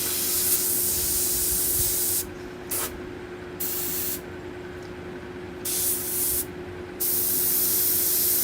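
An airbrush spraying paint onto skulls, hissing in steady bursts that stop and start several times over a low constant compressor hum, close by, with no talk.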